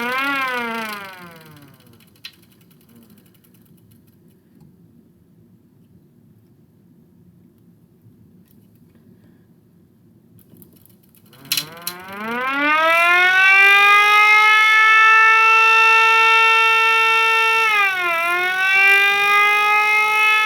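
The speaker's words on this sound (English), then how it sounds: "my Sentry 3v8 siren. 3D printed. Uses a small motor. Got a battery. Let's test it out. It's pretty darn loud." A small 3D-printed Sentry 3v8 siren driven by a little battery-powered motor winds down at first, then spins up into a loud, close rising wail that holds steady with a brief dip near the end.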